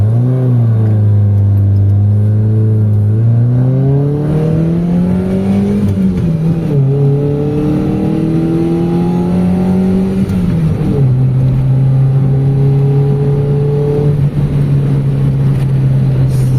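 A car driven along an open road in Nueva Ecija, its engine loud and close, pitch rising through gear changes and then settling to a steady cruising hum, no voices.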